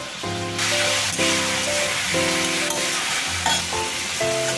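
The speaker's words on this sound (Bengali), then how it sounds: "একটু নুন হলুদ দিয়ে টমেটো আর পেঁয়াজটাকে হালকা ভেজে নেব।" Tomato and onion frying with salt and turmeric in a pan give a steady, close sizzle with stirring scrapes, running the whole time beneath a sustained tonal backing sound.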